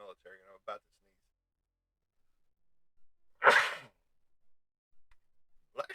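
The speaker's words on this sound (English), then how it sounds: "I'm about to sneeze." A single loud, close sneeze bursts out from a person, preceded and followed by brief quiet talk.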